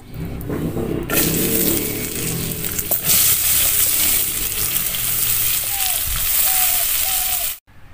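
Chopped garlic, onion and green chilies hit hot leftover fish-frying oil, setting off a sudden loud, steady sizzle that carries on with a few stirring clinks and a brief cut near the end.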